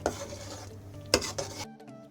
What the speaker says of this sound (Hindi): अब चूल्हा बंद कर दूँगी मैं और इसे बाउल में निकाल लूँगी